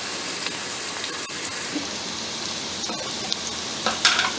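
Onions frying in a generous amount of oil in a pan for vegetable vermicelli biriyani, a steady close sizzle with occasional stirring clinks and scrapes near the end.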